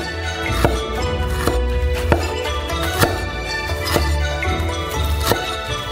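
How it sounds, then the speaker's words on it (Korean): Fresh peeled ginger being cut into thin slices with a knife, giving a steady run of crisp chopping taps about every half second on the board, with no talk. "얇은 조각으로 자른 다음"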